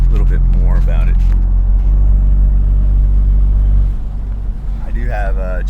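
Chevy Silverado with a 2.7L TurboMax engine and modifications, a low steady engine drone and road noise heard from inside the cab while driving on a main road, easing off near the end, with someone talking over it.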